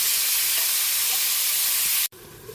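Chicken pieces dropping into hot oil in a pan, a loud steady sizzle that cuts off abruptly near the end, leaving quieter frying behind.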